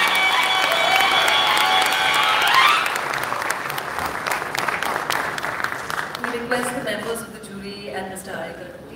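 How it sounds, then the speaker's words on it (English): Applause from an audience at a film awards event, honouring a jury panel, a dense clapping wash that starts loud under a voice and then gradually thins and fades. "can we please have a big round of applause for this wonderful panel of juries."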